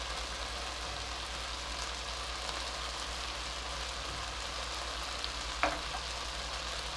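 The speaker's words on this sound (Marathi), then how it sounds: "हे सगळं आपल्याला परतून घ्यायचं आहे" Raw khichdi masala and goda masala sautéing in hot oil for a mixed pulses khichdi, giving a steady, even sizzle throughout with one brief clink partway through.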